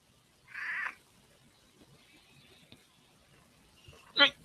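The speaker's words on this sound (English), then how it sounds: "this cat is so interested in nomming me" A domestic cat meows nearby, one clear cry early on and another sharper call at the end, with faint background voices and soft rustling between them.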